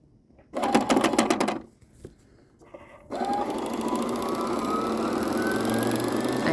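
Sewing machine winding a bobbin, first a brief whirring run, then a pause with small clicks, then a steady close hum that keeps going with a slowly rising whine.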